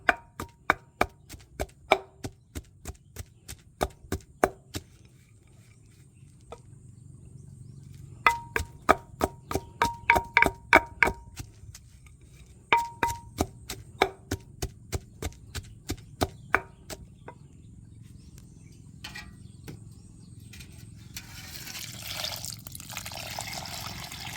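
Ingredients for bamboo shoot curry chopped with a knife at a garden home: close, loud, rapid chops in rhythmic bursts with short pauses, giving way to a steady watery hiss at the end.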